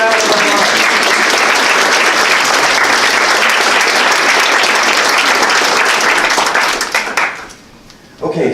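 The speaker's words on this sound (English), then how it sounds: "So let's give them another round of applause." A crowd at a university creative writing and art contest gives the helpers a round of applause, loud, sustained clapping that fades out near the end before a few claps return.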